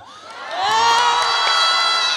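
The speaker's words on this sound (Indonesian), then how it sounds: "Tepuk tangan untuk Kak Igun" A live audience breaks into loud cheering and shouting, with children's voices prominent, for Ivan Gunawan during a religious talk. The crowd noise swells after a quieter start and holds steady and dense to the end.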